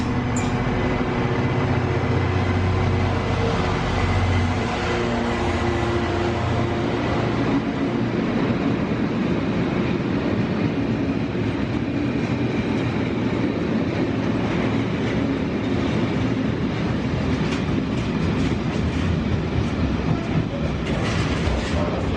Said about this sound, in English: And here we've got a freight going somewhere.